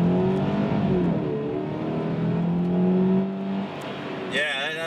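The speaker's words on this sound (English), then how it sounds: "One more acceleration here." A 2013 Scion FR-S accelerates hard through the gears, engine note rising steadily in pitch and loudness inside the cabin, then easing off near the end as a voice briefly speaks.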